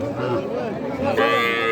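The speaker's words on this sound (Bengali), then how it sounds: "এখানে সাধারণত দামুড় গরু অর্থাৎ বকনা গরুগুলোর সংগ্রহশালাটা বেশি" Local-breed heifers at the Aftabganj cattle market give a loud, close moo that rises in pitch near the end, with faint market noise in the background.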